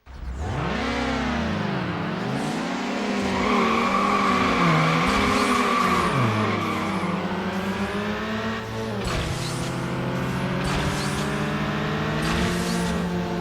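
A race car engine in Need For Speed Underground revs loudly and close, its pitch climbing and dropping through repeated gear shifts, with bursts of tire squeal over the sustained drone.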